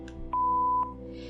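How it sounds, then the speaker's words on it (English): A single steady answering-machine beep in the visual novel Angels with Scaly Wings sounds clearly for about half a second, alone over a quiet background hum. "Please leave a message after the beep"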